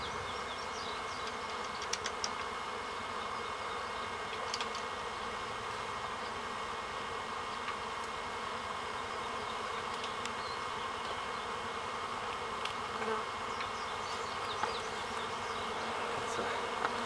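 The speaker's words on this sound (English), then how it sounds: "It's a bunch of bees." A swarm of bees hums in a continuous, even drone with a few louder passing buzzes, heard outdoors on its own with no voices.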